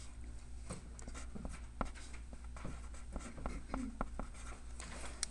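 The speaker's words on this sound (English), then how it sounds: "I'm going to write them and then I'm going to color code them" Pen or pencil writing on paper while marking a graph on a coordinate plane, soft scratchy strokes and taps in an irregular rhythm, close and quiet over a low background hum.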